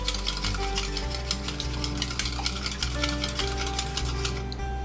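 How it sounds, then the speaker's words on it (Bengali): Two eggs with a pinch of salt are beaten in a bowl, a rapid, even run of light clicking and tapping strokes that continues steadily over a low background hum. "ভালোভাবে ডিমটাকে একটু ফেটিয়ে নিচ্ছি।"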